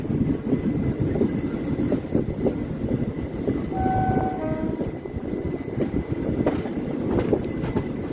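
A train starts moving after a long halt, rumbling and rattling with rhythmic clacking, while a few thin, high wheel squeals rise briefly in the middle.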